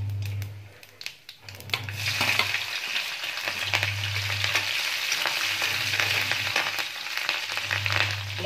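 Mustard seeds and cumin sizzle loudly in hot oil with a steady broadband crackle, while a low hum rises and falls repeatedly underneath.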